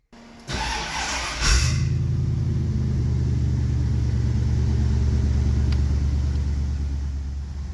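A healthy 351 Windsor V8 in an old panel truck cranks and fires, then settles into a steady, loud, close idle with a deep rumble.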